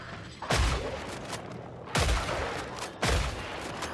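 Three heavy, booming gunshots from a weapon in Killing Floor 3, spaced about a second apart, each loud and close with a lingering tail.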